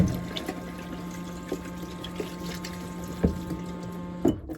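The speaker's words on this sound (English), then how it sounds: "now I can wash my hands, turn on my water on." Tap water runs in a VW T6 camper van, a steady pouring stream over a constant low pump hum, with a few small knocks and splashes near the end.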